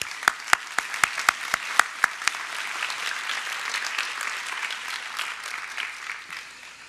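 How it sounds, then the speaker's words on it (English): Applause at a school Year 6 and Year 9 promotion ceremony opens with a few sharp, separate claps that quickly swell into steady, dense clapping from a large audience, continuing evenly to the end. "Big round of applause, Andy."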